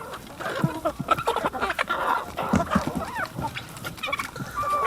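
Slow-growing white broiler hens crowd around feed on a farm, giving off a busy mix of clucks, chirps and scratching that runs continuously and fairly close, with no talk over it.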